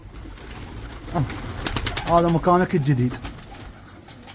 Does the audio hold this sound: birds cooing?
yes